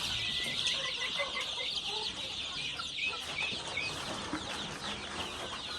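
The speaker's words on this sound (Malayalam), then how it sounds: "അതുപോലെ ഇത് ഫുള്ള് കരിങ്കോയി കുഞ്ഞുങ്ങളാണ്" Many young black chicken (Karinkozhi) chicks peep and cluck together in a constant bright chatter, close and steady, with occasional sharper chirps standing out.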